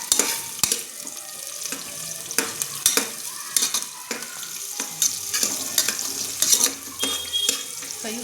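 Chopped onions frying in hot oil for a Sunday goat-head curry, a close, bright sizzle broken by repeated spoon scrapes and clinks against the pan.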